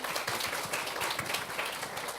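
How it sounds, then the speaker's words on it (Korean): An audience at a corporate job-talk Q&A event claps together in a dense, steady burst of applause that continues for a couple of seconds at moderate volume. "박수 부탁드립니다."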